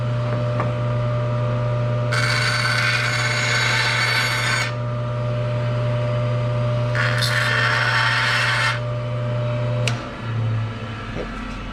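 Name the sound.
saw cutting wooden cutting board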